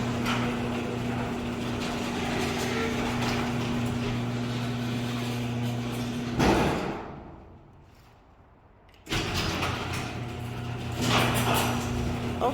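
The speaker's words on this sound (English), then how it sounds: "The garage doors open well." A residential garage door runs open with a steady motorized rumble and hum, loud and near, then a brief thud and near-quiet lull before the mechanical drone resumes.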